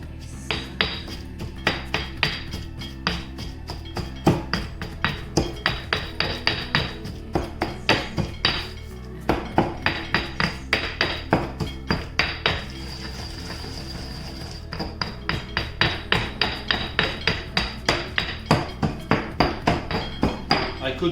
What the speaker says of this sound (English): So my garlic, as you can see, is mashed up very well.